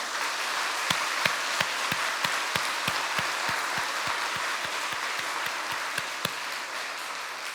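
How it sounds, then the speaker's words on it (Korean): A church congregation claps together during a Sunday healing revival service, a dense, steady wash of applause over a little more than seven seconds, with sharp individual claps standing out at regular intervals. "우리 하나님 앞에 박수 한번 해야 되지 않겠어요?"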